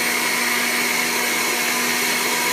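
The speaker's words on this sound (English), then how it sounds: "The soaked cashews are in the vegetable broth, and they're going to get blended up." A blender whirring steadily as it purees soaked cashews in vegetable broth, a loud, even motor drone with a grinding hiss, alone and unbroken.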